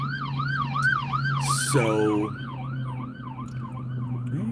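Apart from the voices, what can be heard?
ambulance siren passing behind the speaker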